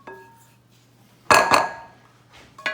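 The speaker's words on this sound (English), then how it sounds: "Get them in the glass bowl." Crumbs tumble into a glass bowl with a bright clattering rush, a few clinks ringing briefly before quiet; another short clink comes at the end.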